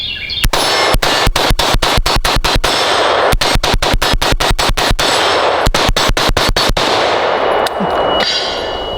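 AR-15 rifle with an 18-inch gas tube firing at steel targets, a fast string of loud, sharp shots each followed by a ringing metallic clang from the steel, with brief pauses between groups of shots.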